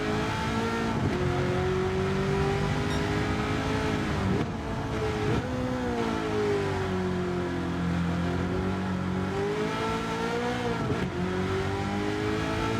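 Race cars, including a C8, lapping a track in Gran Turismo 7, a loud continuous engine note rising through the revs with sharp drops at each gear change.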